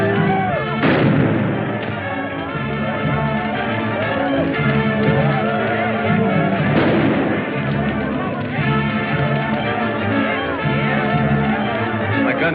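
Sustained gunfire in an old Amazon jungle adventure film: loud, dense bursts of shots and booming blasts rolling almost continuously for about twelve seconds, with voices faintly underneath.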